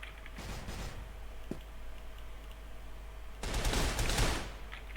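Gunfire in a video game, a loud sustained burst of rapid shots near the end with fainter scattered shots earlier over a steady low hum.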